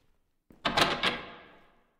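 A door in a horror video game opens or shuts with a single loud, close thud and clatter, followed by a short fading rattle and reverb, alone in a quiet space.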